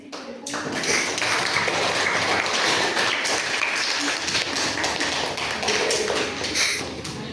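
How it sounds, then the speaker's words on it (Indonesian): Student audience at a Pancasila class project presentation claps for the panel teams, a dense, steady round of applause with tapping and shuffling, loud and sustained over several seconds with faint voices underneath. "Berikan tepuk tangan yang meriah kepada tim panel 1 dan panel 2 kelas D kelompok 1"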